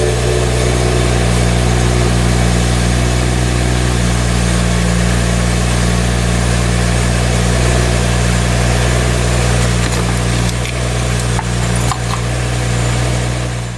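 A 2012 BMW 335i, just back together after a chargepipe repair, idles steadily with a constant low drone and a few faint clicks near the end; no voices.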